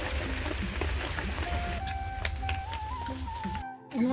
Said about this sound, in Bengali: বাইরে খুব জোরে বৃষ্টি এসেছে।